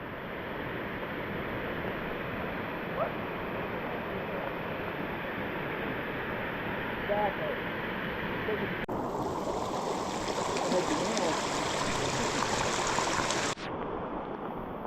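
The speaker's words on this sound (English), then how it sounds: "Another set of falls right down there." Alpine Falls on the Loyalsock Link Trail pours as a steady, broadband rush of falling water, constant and fairly close throughout with no talking.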